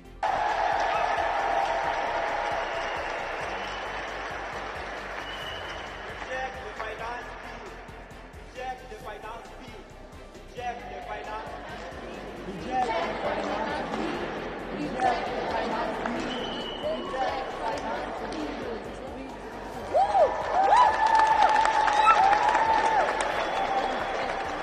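A crowd at the State House claps steadily in a sustained round of applause, with scattered voices and cheering rising toward the end.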